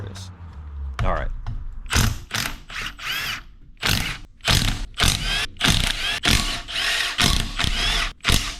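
A 13 mm socket wrench ratcheting on a Briggs & Stratton V-twin engine: loud, close bursts of rapid clicking in repeated strokes with short pauses between them, no talking.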